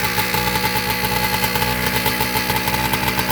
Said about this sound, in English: Hark, I hear a 348cc two-stroke Montesa Coda.